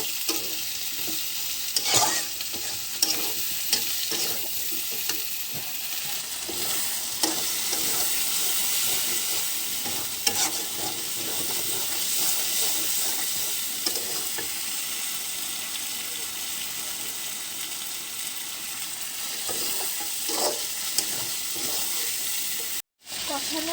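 Chicken and yam stir-fry in a pan, giving a continuous sizzle with frequent scraping and clacking as the food is stirred, sustained for over twenty seconds at moderate loudness.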